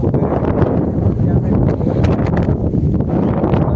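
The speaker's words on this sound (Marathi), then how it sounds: "वारा खूप आहे" Heavy wind buffeting the microphone at Janjira Fort, a loud continuous roar and rumble with no pauses throughout.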